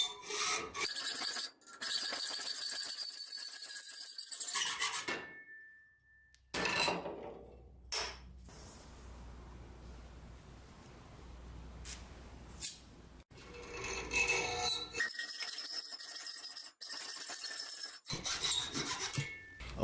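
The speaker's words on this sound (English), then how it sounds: "cutting them by hand like that with the hacksaw made them a little bit different lengths" Side struts for a mirrorless camera helmet mount are cut by hand with a hacksaw, giving repeated rasping back-and-forth strokes in close bursts, separated by a few brief pauses.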